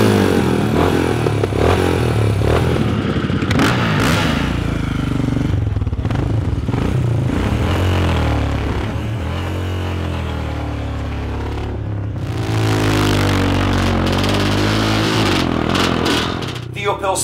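A Royal Enfield motorcycle engine runs loud and continuous near a race start line, its pitch sweeping up and down with revving, while a voice talks over it at times.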